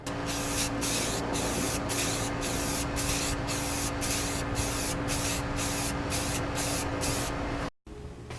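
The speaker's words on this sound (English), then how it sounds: "as soon as you sand any raw metal, put on some self-etching primer" An aerosol can sprays self-etching primer onto sanded raw metal of a Ninja motorcycle under restoration, a long steady close hiss with a faint rhythmic flutter, cutting off abruptly near the end.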